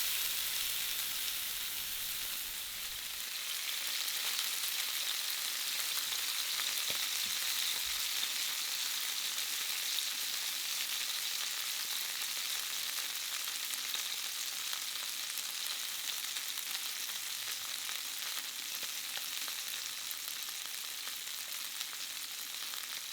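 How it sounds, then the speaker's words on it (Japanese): Fish fillet sizzling skin-side down in olive oil in a hot frying pan, a steady dense crackle that starts after a quiet moment and holds loud and even, with no talking. "温めたフライパンにオリーブオイルを入れて魚を置いていきます。"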